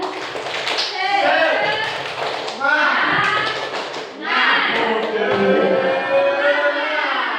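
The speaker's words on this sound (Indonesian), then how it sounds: "Kurang semangat Ibu, sekali lagi tepuk semangat." Teachers in a school workshop room repeat a rhythmic group spirit clap more loudly, with crisp clap bursts in a set pattern mixed with voices chanting together throughout.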